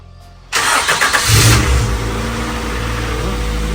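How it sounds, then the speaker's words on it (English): A Honda car engine cranks and catches after a quiet lead-in, surging into loud revving before settling to a steady, close idle rumble. "Sounds like a Honda."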